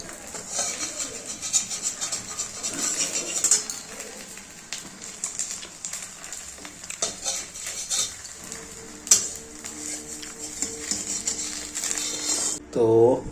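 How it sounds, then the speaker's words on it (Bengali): A spatula works kheer around a pan while making pitha, producing soft scraping strokes and occasional metallic clinks close by, with a voice talking over the stirring. "আস্তে আস্তে খুন্তি দিয়ে টানছে"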